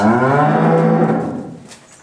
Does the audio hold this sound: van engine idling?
no